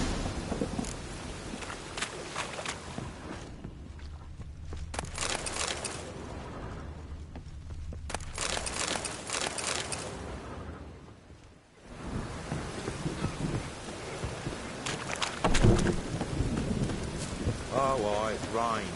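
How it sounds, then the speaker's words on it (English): Steady rain pours in Witcher 3, broken by several long rumbling rolls of thunder that rise and fade, with a brief lull before the downpour returns and a voice briefly heard near the end. "Oh, it rained."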